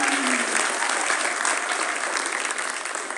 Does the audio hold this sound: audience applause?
yes